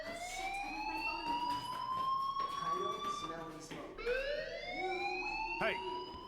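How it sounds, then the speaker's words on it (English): A fire alarm in the video game Life Is Strange rings steadily with rising and falling siren-like wails that repeat twice, loud and continuous, with voices talking over it. "do you hear that fire alarm? That means you should be outside."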